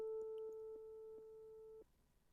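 A steady organ drawbar tone holds one pitch and drops in volume in several soft clicking steps as the drawbar is pushed in, then cuts out, leaving faint room noise.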